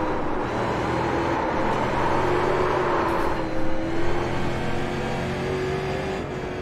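Steady, loud engine drone from a stock street car in iRacing, revs climbing and dipping smoothly with a short burst of road noise midway.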